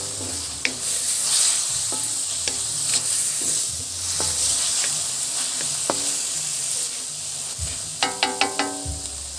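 Pancit bihon rice noodles with seasoning being stir-fried, a steady close sizzle of frying under repeated scraping and clinking of a utensil against the pan, with a brief cluster of metallic taps near the end and no talk.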